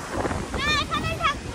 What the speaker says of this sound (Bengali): এখানে অনেক বেশি বাতাস